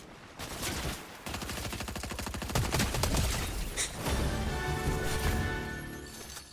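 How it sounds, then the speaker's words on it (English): Rapid bursts of automatic gunfire in the Fortnite video game, loud and close, with dense rattling volleys, a brief pause, then sustained firing mixed with impacts and crashes, and no talk over it. "now you want to shoot back"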